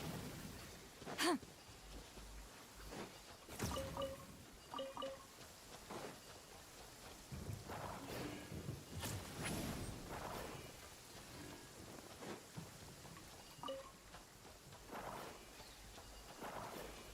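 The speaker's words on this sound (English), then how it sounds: "but it's still raining" Steady rain in Genshin Impact with rolling thunder, several louder cracks and rumbles over a continuous patter and hiss, no voices.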